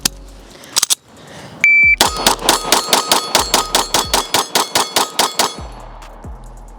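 A Sig P365 striker-fired pistol fires a rapid string of about seventeen shots, each strike ringing off steel targets with a sharp metallic clang, evenly spaced in quick rhythm, loud and close, after a few scattered earlier pings.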